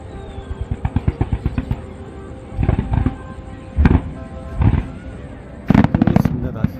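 Fireworks go off over the old Saryu bridge during the Ayodhya Deepotsav Diwali celebration: a rapid string of crackling pops, then several loud booming bursts spaced a second or so apart, with crowd voices underneath.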